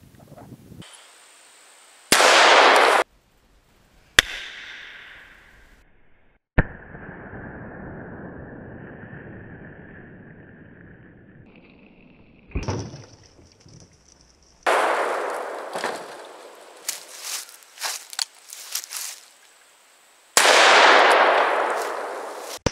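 Several loud, sharp blasts from a Ruger Super Redhawk .454 Casull revolver firing platinum tip hollow point rounds, each followed by ringing, lingering echo and clangs of struck targets outdoors.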